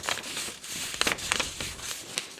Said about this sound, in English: Don't you just love the ASMR of the paper?